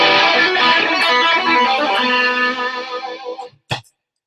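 A loud, heavily distorted electric guitar riff plays on its own for about three and a half seconds, then cuts off, followed by a brief final strum.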